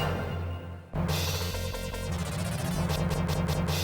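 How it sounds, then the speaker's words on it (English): Credit insert chime in Taito's Superman arcade game, a short electronic jingle sounding over a steady, loud layer of game music and effects, with a sharp burst of tones near the start and bright stabs toward the end. "That's the sound of putting credits."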